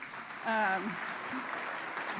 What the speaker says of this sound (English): let's give a wonderful round of applause to Jacqueline Winspear and Lowell Tolhurst